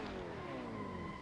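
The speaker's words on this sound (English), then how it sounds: "Do a bit of a jump drift in a sec." Car jump drift in a racing video game, engine revving steadily with a whining tone and slight tire squeal over a brief moment.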